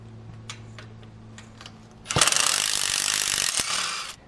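Ratchet wrench loosening exhaust manifold nuts on a Ford Explorer 4.6L 3V, a few soft clicks at first, then a quick, loud burst of rapid ratcheting close by.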